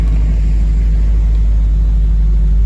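A warmed-up 1968 Shelby GT500 KR convertible with its 428 Cobra Jet V8 idles with a steady, deep low rumble, its clutch fan turning, with no voices.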